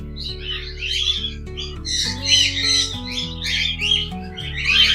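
Caged birds at Malsi Deer Park zoo in Dehradun squawk and chirp continuously in loud overlapping bursts, with a steady low mechanical hum running underneath.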